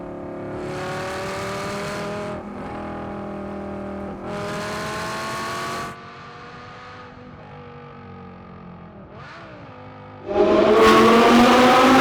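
A V10 Audi R8 with a six-speed manual gearbox accelerating hard: the engine note climbs through the revs, drops briefly at each gear change, then surges to a loud, close roar at the end.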